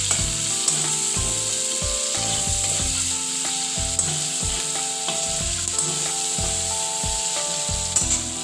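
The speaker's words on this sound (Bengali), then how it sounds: "এই তেলের মধ্যেই দিয়ে দিচ্ছি পেঁয়াজ। পেঁয়াজটা ভালো করে ভেজে নিতে হবে।" Onions frying in hot oil for a fish curry, a continuous close sizzle broken by regular scraping and stirring knocks from a spatula against the pan, with no one talking.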